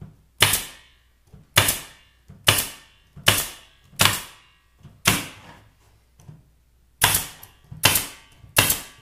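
A staple gun drives staples into the wooden sides of a 10-frame beehive base, giving about ten sharp, loud, close snapping shots at roughly one-second intervals, each followed by a short decay.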